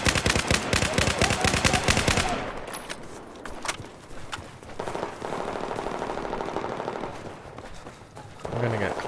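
AR-160 rifle fire in Battlefield 4 multiplayer, a loud rapid automatic burst for about two seconds, then scattered single shots and distant gunfire with other game sounds and a short burst again at the end.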